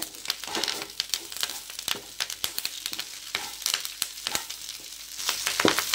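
Curry leaves dry roasting in a pan crackle and pop with sharp, irregular snaps over a steady sizzling hiss, close and fairly loud, as they are stirred, with no voices.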